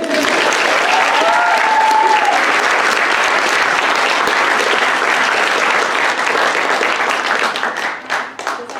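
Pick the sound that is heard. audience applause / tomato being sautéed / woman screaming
audience applause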